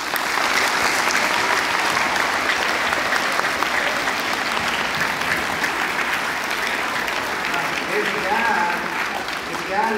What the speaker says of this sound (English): reward yourself with a round of applause for what you did to make this happen